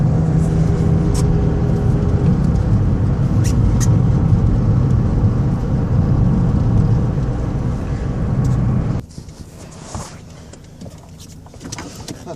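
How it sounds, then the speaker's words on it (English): A Toyota Corolla with TRD parts runs loud and steady from inside the car, a continuous low engine drone and road rumble that cuts out sharply near the end, leaving faint quiet noise. "Wait till the engine gets warmed up and then kicking some TRD here."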